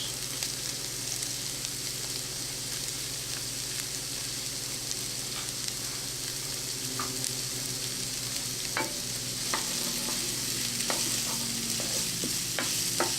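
Carrots frying with onions and garlic for a curry chicken, a steady close sizzle with scattered scrapes and taps of stirring throughout, no voices.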